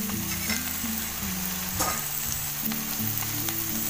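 Okra frying in a pan, a dense close sizzle with crackling and occasional stirring scrapes, loud and continuous, with no talking over it.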